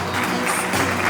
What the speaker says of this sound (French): Est-ce qu'on peut applaudir la première partie, madame, monsieur?